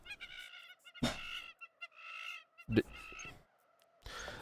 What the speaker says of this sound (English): The seagulls have come.